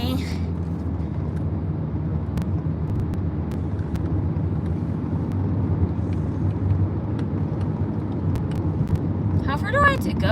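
Car travelling along a road at night, with a steady low engine and tyre rumble throughout and a brief higher whine near the end; the drone stays continuous and moderately loud.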